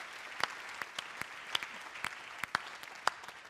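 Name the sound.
applause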